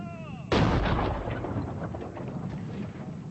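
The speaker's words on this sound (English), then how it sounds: "British artillery pounded Boer positions in the hills around the besieged towns" A British artillery bombardment of Boer positions in the hills sets off a single heavy boom that strikes suddenly, then rolls away into a long, fading rumble, after a faint high ringing tone before the blast.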